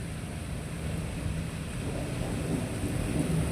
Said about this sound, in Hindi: बादल गरज रहे हैं, उसकी आवाज़ भी आ रही होगी।